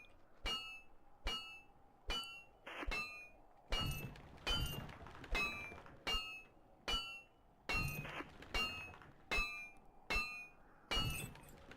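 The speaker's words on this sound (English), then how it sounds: "Hit a rock with a hammer." In the video game Osiris: New Dawn, a hammer strikes a rock over and over in a steady rhythm, each hit a sharp metallic clink with a short ringing tail, about a dozen blows in a row.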